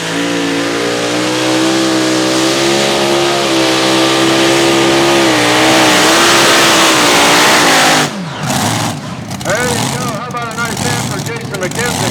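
A modified tractor pull engine roars at full throttle during a run with the sled, loud and sustained, the note climbing before turning rough and sputtering, while an announcer talks over it.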